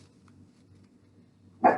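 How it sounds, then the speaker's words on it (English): A single dog bark sounds near the end, sharp and fairly close, after a stretch of quiet room noise. "Sorry about the dog barking."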